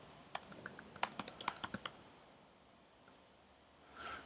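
A quick burst of about a dozen keystrokes on a computer keyboard, close and crisp, then a lone click and a soft rustle after a pause.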